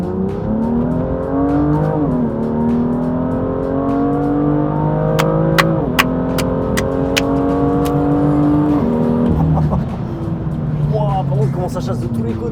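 A BMW M2 Stage 2 with about 428 hp accelerates hard from inside the cabin, its engine note climbing through several gears with sharp drops at each shift and crackles on the overrun, loud and continuous.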